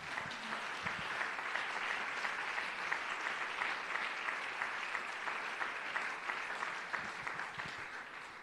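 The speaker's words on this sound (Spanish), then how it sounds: "Hay aplausos para el Todopoderoso." A church congregation applauds in sustained, even clapping that fills the room, dense and moderately loud from start to finish with no voices standing out.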